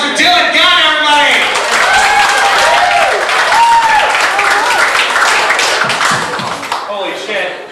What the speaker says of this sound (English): Please give a huge round of applause for Dylan Gunn, everybody!